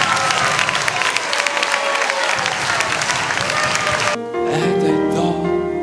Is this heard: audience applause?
yes